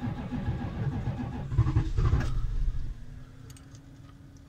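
Dodge RAM B250 van on a cold morning, its engine cranking and catching roughly in a loud, rumbling start attempt close by, then settling to a quieter uneven idle.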